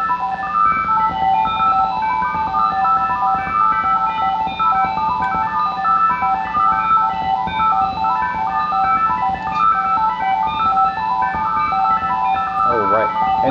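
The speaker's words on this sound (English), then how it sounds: "you have phasing effects going on at both speeds" A looping chime-like melody repeats with a swirling phasing effect, layered copies drifting in and out of alignment, steady and fairly loud.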